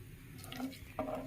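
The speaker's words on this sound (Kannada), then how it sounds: "ನೀಟಾಗಿ ಮಿಕ್ಸ್ ಮಾಡ್ಕೊಳ್ಳಿ ಮಸಾಲೆನ" Ground masala being stirred into sprouts sambar in a pot, giving soft scraping and clinking of a spoon against the metal vessel, close and quiet with no talk.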